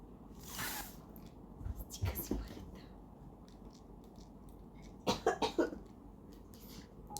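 A person coughs several times during a football video game session: one cough early, another about two seconds in, then a quick cluster of three or four coughs near the end, all close and moderately loud over quiet room noise.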